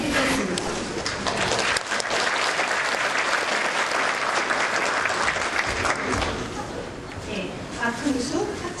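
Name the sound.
audience applause at graduation ceremony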